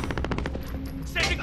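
Rapid automatic gunfire in the Call of Duty Warzone video game, a quick close burst of shots followed by a brief louder blast, heard alone.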